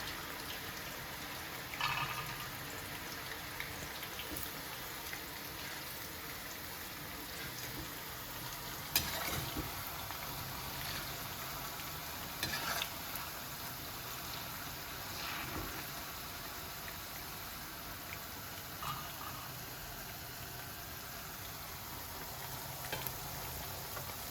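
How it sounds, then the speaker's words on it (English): Eggplant pieces sizzle and crackle steadily in hot oil in a pan, a continuous frying hiss with scattered pops throughout, no voices. "Let's fry our first batch"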